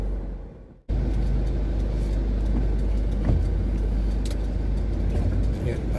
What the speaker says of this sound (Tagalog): Traffic yata ng konti dito sa palabas.